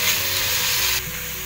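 Coriander and mint fry in egg biryani masala with a loud, steady sizzle and hiss close up, easing slightly partway through, with no voices.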